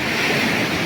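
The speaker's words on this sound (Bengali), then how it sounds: "সমুদ্রের শব্দর গর্জন শোনাতে এসেছি" Sea surf rolling onto the beach at Cox's Bazar, a steady broadband wash of breaking waves with wind noise on the microphone, continuous and fairly loud with no voices.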